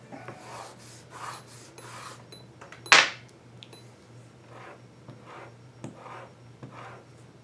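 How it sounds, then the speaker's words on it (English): Knife being sharpened during leather carving, a repeated raspy stroking in short bursts, then a sharp bright scrape near the middle, followed by softer strokes against a faint steady hum. "Picked up the knife. Gotta sharpen it."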